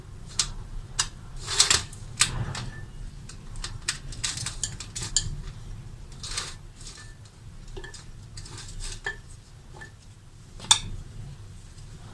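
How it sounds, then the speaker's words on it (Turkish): Carrots are chopped with a knife on a board: a steady run of sharp, close taps and clicks in an irregular rhythm over a quiet kitchen background, with one louder chop near the end. "Tekrar havuç doğruyoruz."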